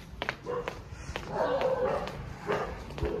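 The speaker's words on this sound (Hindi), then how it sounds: "देखते हैं कौन डॉगी भौंक रहा है।" A dog barks several times in short, separate bursts at moderate distance, with brief pauses between barks in a quiet indoor-outdoor setting.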